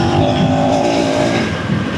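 A KTM 390 Enduro R single-cylinder motorcycle engine revs hard under load, a loud steady high-pitched drone with wind roar throughout and no talk over it.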